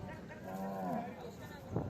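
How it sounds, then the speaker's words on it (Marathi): At the Pathri livestock market in Maharashtra, where bullocks, buffaloes, cows and goats are traded, a single low cattle moo rises close by over a steady murmur of crowd noise and talk. "आपण आलात बघा पाथरी बैल बाजार, म्हशीचा, गायचा, शेळ्यांचा सर्वांचा बाजार इथं भरते बघा"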